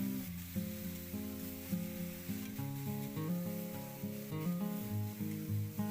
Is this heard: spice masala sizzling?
yes